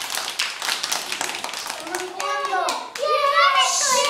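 Schoolchildren in a classroom clap together after a fable is read aloud, a quick patter of small hands mixed with excited children's voices and chatter, then high-pitched cheering calls rise over the clapping.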